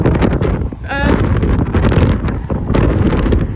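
Heavy wind buffeting a microphone, a loud rumbling roar that gusts and dips throughout, with a brief higher whistle partway through.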